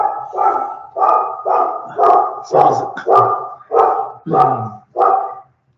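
Pet dogs bark at a ringing doorbell inside a home: about nine loud, close barks in a steady, insistent run, with a few whimpering yips mixed in and a brief voice speaking.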